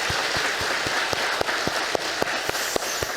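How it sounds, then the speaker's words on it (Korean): A church congregation claps to welcome visitors during a Sunday service, a steady wash of applause with a few sharper individual claps standing out at a regular beat throughout. "우리 박수로 환영하겠습니다."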